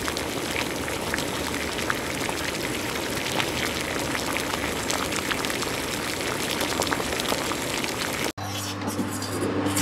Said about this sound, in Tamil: இந்த மாதிரி கொதிக்குது